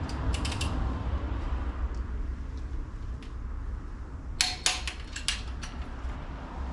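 Ratcheting torque wrench tightening the cylinder head bolts on a 2001 Cadillac DeVille Northstar engine during head gasket repair, giving a few short bursts of clicks and creaks over a steady low garage hum.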